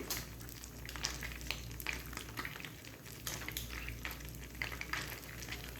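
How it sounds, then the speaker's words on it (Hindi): Bread slices frying in hot oil over medium heat for sweet Hyderabadi double ka meetha, giving a steady, moderate sizzle with scattered crackles and small pops throughout, close by and without talk. "अच्छे तरीके से इसको फ्राई करना है इस ऑयल में।"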